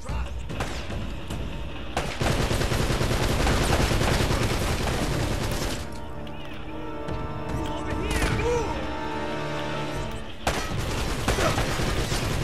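Enemy gunfire in Uncharted: Drake's Fortune, dense bursts of shots and impacts rattling through a firefight, loud and sustained with short lulls, while someone talks over the action.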